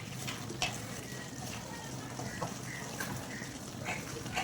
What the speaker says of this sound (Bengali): এইভাবে আমি কন্টিনিউ কষিয়ে যাব মাংসটাকে